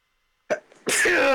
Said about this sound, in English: what the kind of fucking sneeze was that?